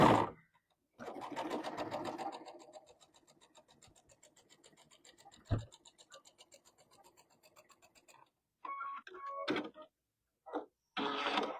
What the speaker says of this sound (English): we are going to stitch down the triangle on one side